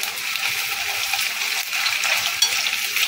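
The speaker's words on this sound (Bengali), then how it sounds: "আমি কিন্তু এটা হাই ফ্লেমে ভাজবো" Taro slices deep-frying in hot oil on a high flame, a dense, continuous crackling sizzle at close range with no voices.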